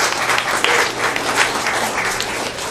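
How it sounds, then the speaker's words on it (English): A panel event audience breaks into brisk, fairly loud clapping, a dense uninterrupted patter of many hands lasting a few seconds. "claps to that, right?"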